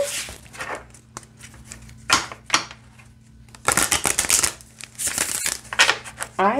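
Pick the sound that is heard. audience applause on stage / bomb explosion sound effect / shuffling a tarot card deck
shuffling a tarot card deck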